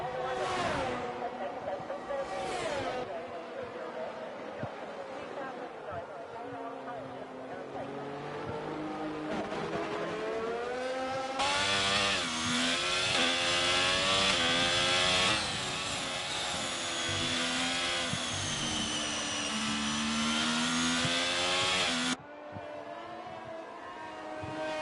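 Race cars in a sim racing game pour into the pits under wet conditions, their engines droning and shifting pitch continuously for most of the clip, loud and steady beneath frequent overlapping radio-style talk.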